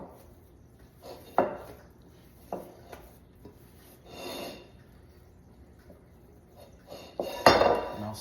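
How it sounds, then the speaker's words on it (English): Rye sourdough dough with starter worked by hand in a bowl, giving intermittent soft rubbing, squishing and scraping sounds with a few light knocks against the bowl, close and quiet, no voices. "We're going to knead this in the bowl just to get that starter incorporated."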